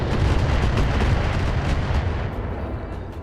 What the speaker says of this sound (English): Oh, it's a missile spam turret.